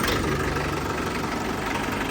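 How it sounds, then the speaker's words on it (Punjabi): A steady, rumbling engine of an old 1996-model tractor idles continuously at close range, a low mechanical drone with no pauses or voices. "96 ਮਾਡਲ ਲੈ ਜੀ ਆਵਾਜ਼ ਸੁਣੋ ਟਰੈਕਟਰ ਦੀ ਪੂਰੀ ਘੈਂਟ ਆ"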